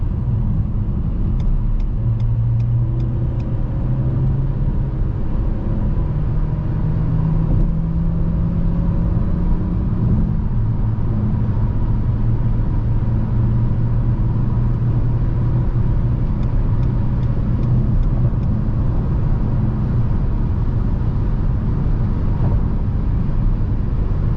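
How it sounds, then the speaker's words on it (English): A 2023 Renault Captur E-Tech 145 full hybrid accelerating in normal mode at night, climbing slightly uphill, heard from inside the cabin as a steady loud road rumble with a rising then shifting engine drone, with no talking. "So that was accelerating in normal mode."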